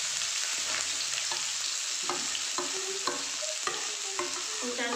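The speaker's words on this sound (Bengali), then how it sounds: "আমি এখন যে পেঁয়াজ, আদা, রসুন কুচিয়েছিলাম এটা ঢেলে দেবো।" Chopped onion, ginger and garlic hit hot oil and fry with a steady loud sizzle, stirred now and then with soft scraping clinks, while cooking a mixed dal fry.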